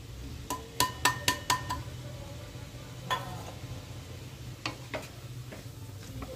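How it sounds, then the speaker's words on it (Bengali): A metal spatula stirs vegetables with chili, turmeric, cumin, coriander and garam masala powders in a pan over a low flame for veg thukpa. A quick run of sharp clinks comes first, then scattered scraping taps over a low steady hum. "সব সবজিগুলো নেড়ে চেড়ে নরম করে নিচ্ছি"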